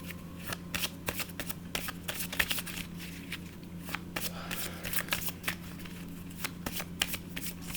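Tarot cards being shuffled and drawn in a steady run of crisp riffling flicks and slaps, close and fairly quiet over a low steady hum, with no talk.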